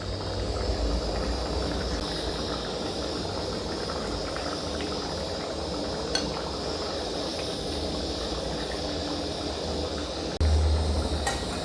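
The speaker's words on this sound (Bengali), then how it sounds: "এবারে ঝোলটা ভালোভাবে ফুটে গেছে।" Fish curry boiling in a pot, a steady loud hiss and bubbling that runs without pause, with a brief thump near the end and no talking.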